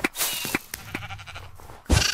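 Sheep bleating in Minecraft amid busy game sounds, a shaky bleat mixed with scattered clicks and thumps, ending in a louder burst of noise.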